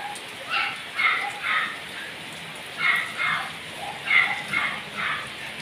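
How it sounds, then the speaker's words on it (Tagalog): Steady rain hisses in the background while a dog repeatedly whimpers and yips in short high bursts. "Siguro gustong lumabas, kaya lang umuulan."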